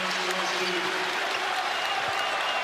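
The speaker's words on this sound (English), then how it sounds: "the crowd making some more noise again" Basketball arena crowd at Alabama vs. Auburn roaring and applauding after a made free throw, a dense sustained wash of cheers and clapping filling the whole stretch with no let-up.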